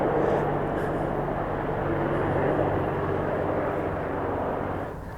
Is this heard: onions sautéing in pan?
no